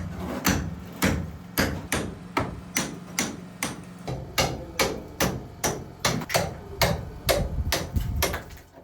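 Plaster being chipped off a brick wall with rapid, evenly spaced hammer blows, about two per second, sharp and close, each strike followed by a short crumbling rattle.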